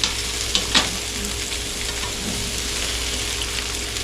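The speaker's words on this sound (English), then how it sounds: "Saute it around a little bit." Fajita ingredients sizzle and fry steadily in a hot pan while being stirred and sautéed, a continuous close crackling hiss with a couple of sharper pops near the start.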